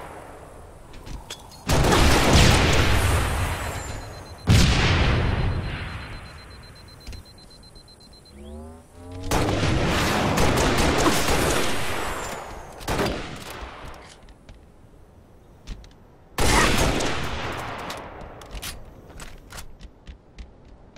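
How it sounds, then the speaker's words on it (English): A DMR rifle in Halo: Reach fires in loud bursts of rapid single shots, with long volleys separated by brief pauses and a mechanical whirring between them, close and dominant. "trying to lock him down with DMR fire"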